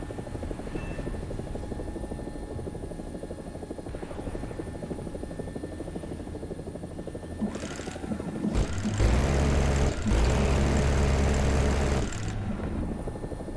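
AB 205 A-1 helicopter rotor in a combat flight game, a steady low thudding drone throughout that swells louder and fuller for a few seconds near the end before settling back.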